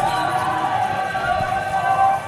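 Crowd noise fills a packed school gym at a Hillel basketball quarter-final, a steady roar of cheering and chatter that stays loud throughout, with no single voice standing out.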